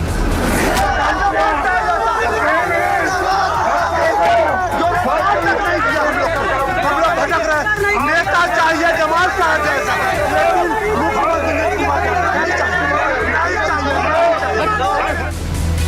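A large crowd of unemployed people at a political rally in Bihar, a dense, continuous roar of many voices chanting slogans in unison, loud and close throughout with no pauses.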